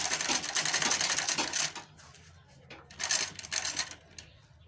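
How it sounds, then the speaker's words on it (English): A sewing machine stitching fabric for a bag gives a fast, rattling whir in two bursts, a longer run followed by a pause and a shorter run, close by with no talking. "So now I'm going to start my sewing."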